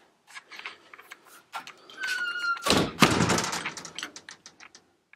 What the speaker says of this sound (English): Let's close the doors.